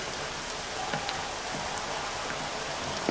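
Rain pours in the video game Red Dead Redemption, a steady wash of drops with scattered light patters standing out briefly, even and unbroken, with no voices.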